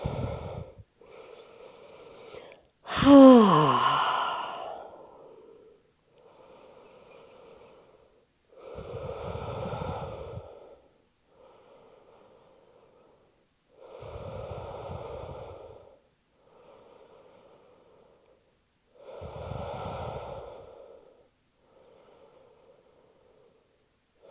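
A person breathes deeply during a yoga session on a mat, slow regular inhales and exhales repeating every few seconds with one loud gasping breath near the start, close and quiet between breaths.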